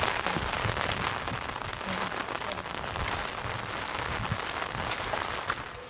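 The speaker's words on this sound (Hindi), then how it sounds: "कम बारिश महसूस हो रही होती है।" Rain falls steadily on surfaces in a Punjab village, a dense continuous patter with scattered heavier drips, close and fairly loud.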